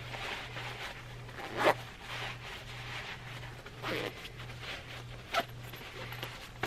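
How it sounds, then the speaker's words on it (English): A travel laundry bag gets zipped up in a few quick separate zipper pulls against quiet room tone, with a low steady hum underneath and no talking. "Zip it up."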